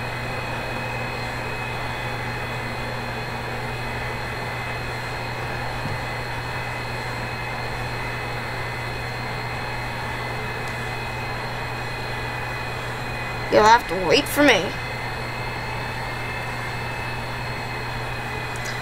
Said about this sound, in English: I do like the sound pack that comes with this airplane for those engines